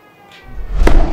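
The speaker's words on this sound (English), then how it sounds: "That sounded exactly like sirens coming." Hydrogen burning inside a Pringles can gives a faint, wavering whistle-like tone that builds into a loud, close thumping whoosh near the end.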